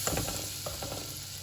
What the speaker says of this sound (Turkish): 1 yemek kaşığı un ekliyorum. Ben tam buğdayını ekliyorum. İstediğiniz unu ekleyebilirsiniz. Ve hafif kavuruyorum.